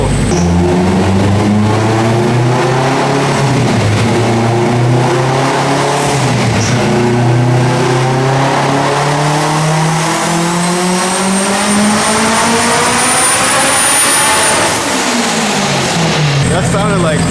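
Turbocharged K20A2 Honda Civic Si engine on a dyno run, a loud sustained roar with harmonics climbing steadily as revs build over many seconds, then dropping sharply near the end, with a high turbo whine rising above the engine note.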